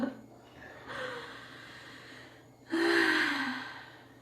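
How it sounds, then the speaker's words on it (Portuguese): A person breathing audibly during a pause in a conversation, with a sharp inhale near the start and a longer, louder exhale or sigh later, close and alone. "Respirando um pouco."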